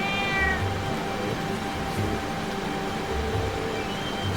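A cat meows briefly in the video game The Legend of Heroes: Trails of Cold Steel, a short mew near the start over a steady background of game music and ambience.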